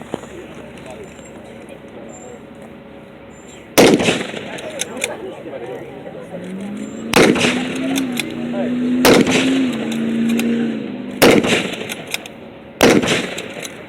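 M1 Garand rifle shots fired at a 2017 veterans car show: five sharp, loud reports spaced a couple of seconds apart, each cracking out over a steady outdoor background, with a low engine-like hum swelling between them.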